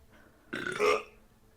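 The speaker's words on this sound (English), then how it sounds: "Did you just burp at your Alexa?" A single loud, close burp rises and fades over about half a second in an otherwise quiet room, aimed at a voice assistant.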